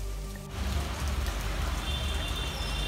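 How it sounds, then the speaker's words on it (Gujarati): Heavy monsoon rain in Rajkot, Saurashtra, falls as a dense, steady hiss that begins about half a second in and continues loud and unbroken to the end, with no talk. "રાજકોટમાં પણ સાર્વત્રિક વરસાદી માહોલ જામ્યો હતો."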